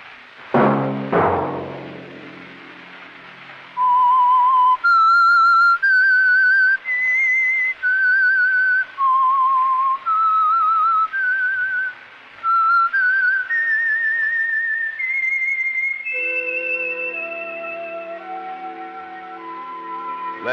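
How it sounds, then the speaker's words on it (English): A lone whistler carries the eerie theme of The Whistler radio mystery show, a sustained melody of clear, loud held notes after a sharp opening chord, ending on falling tones. "Let that whistle be your signal for the Signal Oil program, The Whistler"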